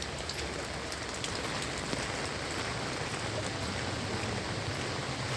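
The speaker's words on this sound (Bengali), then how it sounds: "হেঁটে হেঁটে ফিরছি এই বৃষ্টিতে" Steady rain falls in a soft, even hiss with faint pattering, continuous and fairly quiet throughout.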